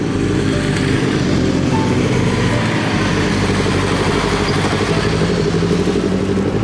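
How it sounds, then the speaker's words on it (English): Motorcycles ride past at Mount Colah, between Gosford and Sydney, a steady loud engine roar and rumble with no talking. "Here comes some bikes. Bikes coming in now."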